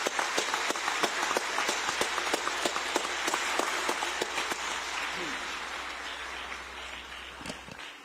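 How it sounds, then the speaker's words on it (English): Audience applause fills a hall at the official opening of the second session of the UN-Habitat Assembly after a children's music performance, a dense, close roar of clapping that holds steady and then slowly thins and fades toward the end. "Let's give them a round of applause again."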